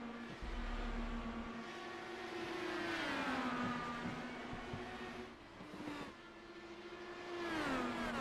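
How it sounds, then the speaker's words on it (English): Stock-style race cars lapping a track in the iRacing video game, engines droning and shifting pitch as several cars pass, fairly quiet and steady with no talking. "Van de Sande going to drop to the bottom, and Rodriguez going to stay at the top of the track"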